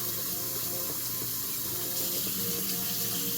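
Cold tap water runs steadily from a faucet, a constant hissing, splashing flow at moderate distance, alone with no talking.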